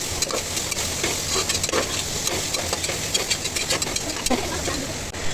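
Chili garlic paste and chopped onion sauté in a pan with bay leaf and curry leaves, giving a continuous close sizzle with scattered light scraping ticks of a spatula.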